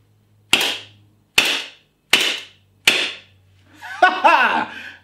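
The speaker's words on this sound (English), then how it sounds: "Watch the awesome blowback action on this thing." Gas blowback airsoft Luger P08 pistol firing four sharp, loud cracking shots spaced under a second apart, each with a short ringing tail, followed by a burst of laughter.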